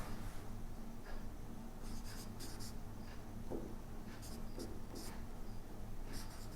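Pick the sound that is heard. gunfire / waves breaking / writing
writing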